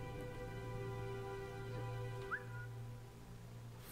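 A game character in Velvet Assassin gives a single short rising whistle over a steady low ambient hum, brief and moderately clear, with no talking.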